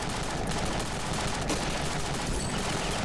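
Tank turret firing in the video game Ravenfield, rapid repeated gunfire bursts over a dense, loud battle din, steady and continuous without pauses.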